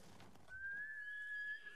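A horse in the samurai game Ghost of Tsushima gives a single drawn-out whinny that starts about halfway through and holds steady for roughly a second. It is fairly near and clear, with no hoofbeats evident and no talk over it.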